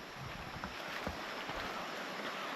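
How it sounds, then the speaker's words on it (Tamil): Steady broadband rushing of flowing water, continuous and even, like a stream heard from nearby with some wind noise mixed in, in Mawlynnong village, Meghalaya. "தண்ணி ஓடுற சத்தம் கேட்குதா?"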